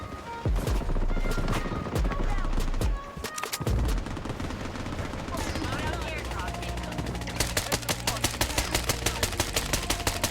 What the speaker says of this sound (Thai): จังหวะที่เราใช้เวเดสยิงสู้จนกระสุนหมดเงี้ยเราก็ต้องควักปืนลองมาเล่น